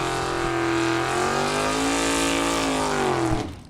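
Bracket drag racing cars, among them a Camaro, roar down the strip in a Super Pro event. A loud, sustained engine drone glides in pitch as the cars tear past the finish line, then cuts off abruptly.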